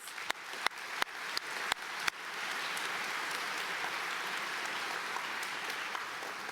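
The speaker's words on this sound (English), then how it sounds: "Let's give them a round of applause" Applause from an assembly audience greeting spokespeople: a few sharp claps at first, then a steady, dense, sustained wash of clapping from a large crowd at moderate distance, with no talk over it.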